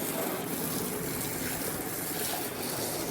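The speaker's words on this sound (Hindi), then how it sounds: "हम इसको भी पानी मारेंगे" A steady hiss of water sprayed onto a dusty 40-year-old Mercedes W124 during washing, continuous and fairly faint with no talk.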